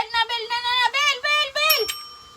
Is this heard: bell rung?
yes